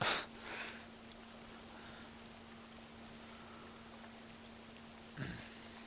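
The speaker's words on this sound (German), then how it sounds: "Es regnet." Rain falls in the World of Warcraft video game as a soft, constant patter with a faint steady hum beneath it, and a few brief louder bursts at the start and near the end.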